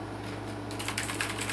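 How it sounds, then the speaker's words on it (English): Fast typing on a mechanical computer keyboard, a quick run of clicky keystrokes that starts partway in over a low hum, close and fairly quiet. "Yes, I do have a mechanical keyboard."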